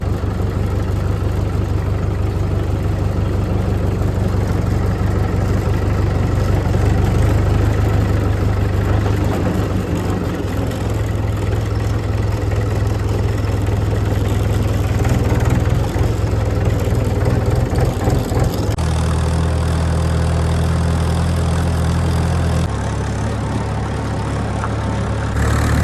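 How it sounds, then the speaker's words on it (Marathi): A small tractor engine hauls a load of onions to market, its steady, loud low drone running continuously with a brief shift in tone partway through. "तर चाललोय मार्केटला ट्रॅक्टर घेऊन आपला कांद्याचा"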